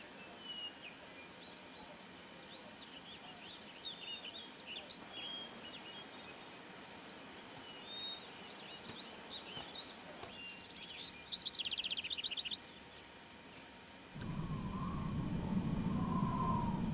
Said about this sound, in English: 鳥のさえずり。